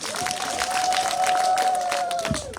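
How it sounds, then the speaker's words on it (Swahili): A crowd at an outdoor campaign launch gathering claps and cheers in a loose, moderately loud burst, with a sustained whistle-like tone running across the middle. "Jamani, makofi yako kidogo jamani."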